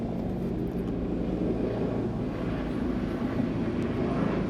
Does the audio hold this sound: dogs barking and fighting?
no